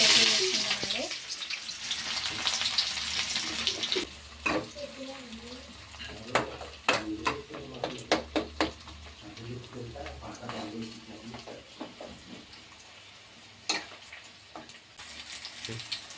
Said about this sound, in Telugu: కొద్దిగానే నూనె వేసుకుందాము బుడ్లు ఇత్తనాలు కాచిన బుడ్లు ఇత్తనాలు వేసుకుందామండి